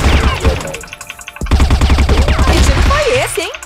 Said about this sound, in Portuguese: Que tiro foi esse, hein?